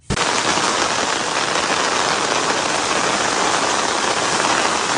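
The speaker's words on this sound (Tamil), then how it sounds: "புரட்டி எடுத்த மழை, மிதக்கும் சவுதி நகரங்கள்" Heavy rain falls on a Saudi Arabian city during flooding, a dense, unbroken hiss and roar that starts abruptly and holds steady and loud throughout, with no voices.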